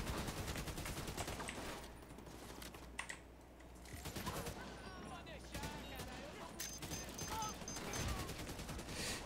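Video-game gunfire in The Division 2 during a checkpoint attack against Rikers, rapid crackling bursts and scattered shots throughout at moderate level, mixed with keyboard clatter and someone talking over it.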